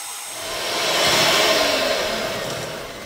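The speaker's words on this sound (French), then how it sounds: "je vais y mettre le beurre et le sucre et je vais bien fouetter" An electric mixer whisks butter and sugar together for a pear and chocolate cake, a close whirring drone that swells in loudness and then eases slightly as the beaters work.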